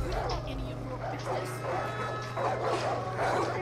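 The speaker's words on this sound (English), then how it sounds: "Random hound dog." Several short barks and yips from a hound dog repeat in bursts, moderately close, over a steady low hum, with voices speaking around them.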